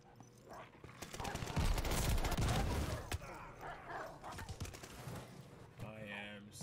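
Shotgun blasts and gunfire crack in a first-person shooter video game, a dense loud burst of repeated shots followed by scattered quieter reports, with someone talking over the action.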